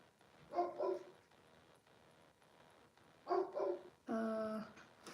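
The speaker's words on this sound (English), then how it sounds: "What are you barking at?" A dog indoors barks in short pairs, two quick yips, a pause, two more, then a longer drawn-out bark-whine, fairly close against a quiet room.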